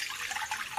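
Water drained from grated potato through a sieve for a Marathi potato chivda, a short, soft steady trickle and splash heard alone and close.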